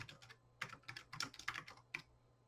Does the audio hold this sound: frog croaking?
no